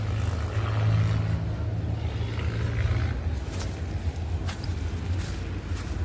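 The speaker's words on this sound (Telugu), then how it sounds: "బస్సులు పోతున్నాయి సౌండ్" Buses pass by on a road beside a garden after rain, their engines a low rumbling roar that swells for the first few seconds and then fades to a softer drone.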